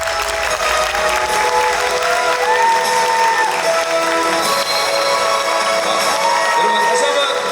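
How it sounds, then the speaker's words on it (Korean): Applause from a seminar audience after a presentation fills the room loudly and steadily, many hands clapping together beneath background music, with some cheering mixed in. "여러분 다시 한번 감사의 박수 부탁드리겠습니다."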